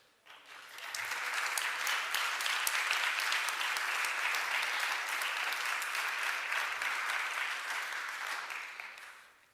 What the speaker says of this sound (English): You deserve that applause and more.